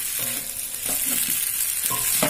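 Boiled macaroni is stirred and fried in a pan, giving a constant sizzling hiss broken by several scraping spoon strokes against the metal; no speech.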